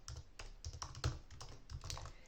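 Typing on a computer keyboard gives a quiet, close run of uneven key clicks and taps in short bursts, with no talking.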